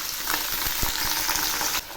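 Vegetables with green chillies and carrot pieces frying in a pan, a steady close sizzle with soft scraping stirs throughout, alone without talk.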